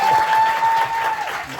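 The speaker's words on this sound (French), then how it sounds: "on l'applaudit très fort" A comedy club crowd at a stand-up show applauds loudly, a thick sustained burst of clapping with a faint steady tone running beneath it.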